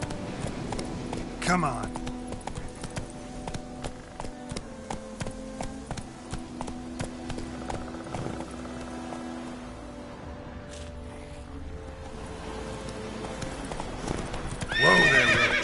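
Roach, a horse in a video game, clip-clops at a steady gallop with a neigh or whinny breaking through, loud and close, while someone speaks briefly over the hoofbeats.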